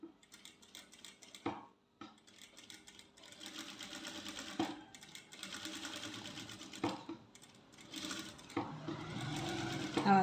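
A sewing machine attaches a lining to the neckline of a maxi top, running in loud close bursts of rapid stitching separated by short pauses, with no talking.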